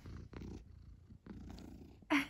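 A house cat purrs close by with a soft, steady, low rumble that runs for a couple of seconds, ending with a brief louder rustle.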